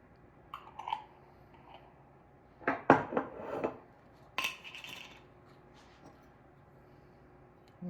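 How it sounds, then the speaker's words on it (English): A cooking pot clatters and scrapes as it is set onto the stove for red beans and rice, with several close, moderately loud metallic knocks in a cluster, then a few lighter clinks. "And we're going to put the pot on the fire."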